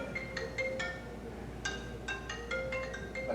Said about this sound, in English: That's my phone on.